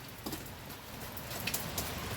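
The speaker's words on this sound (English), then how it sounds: "you can see the raindrops dripping off the top of the canopy" Raindrops drip off the top of an outdoor canopy over a smoker, a soft steady patter with a few sharper drops standing out against a constant background hiss.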